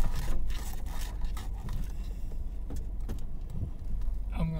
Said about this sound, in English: I'm backing out of a driveway to go get the gas to cut the grass.